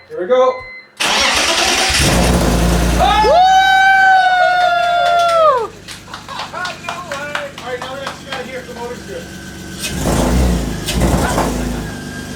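BMW E46 with a swapped engine and eBay headers cranks and fires, then runs rough and misfiring with uneven revs, loud and close, before settling; a person speaks briefly over it.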